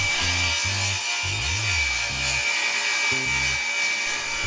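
A sheet of MDF is ripped lengthwise into long boards, producing a continuous loud saw whine and rough cutting noise over a low, uneven rumble.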